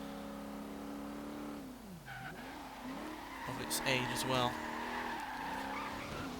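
A 1985 HDT VK Commodore Group A with a low-revving V8 drives in Forza Horizon 3. Its engine drones steadily, rises and falls through revs, and its tyres squeal briefly, all under continuous close talking.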